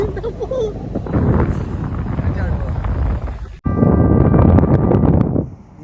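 Strong sea wind on a ship buffets the microphone with a roaring rush, briefly cut off midway before gusting back just as loud.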